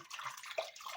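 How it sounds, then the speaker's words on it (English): Parsley being swished and washed in water, soft splashes and trickling drips with a brief slosh in the middle, close and fairly quiet, no talk. "You swish it in the water"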